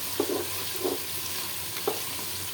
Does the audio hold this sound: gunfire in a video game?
no